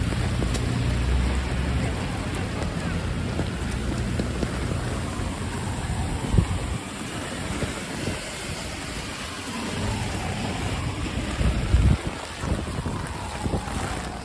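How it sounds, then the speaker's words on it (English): Wind and heavy rain sweep through a New York City street on Houston Street during flash flooding, a steady loud wash of rainfall and gusting wind noise buffeting the microphone, with a couple of sharper thumps partway through and no talking. "Here comes the wind."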